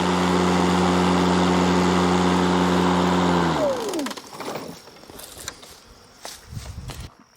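A battery-powered lawn mower hums steadily up close like a fan in an apiary, then its motor winds down and stops, leaving faint rustling and a few soft knocks.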